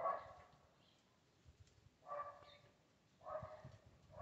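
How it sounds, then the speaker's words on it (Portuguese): A pinscher-poodle mix puppy gives three short, faint whimpering barks spaced about a second or more apart while playing, with quiet background between them. "A Júlia querendo brincar com a cachorrinha, gente."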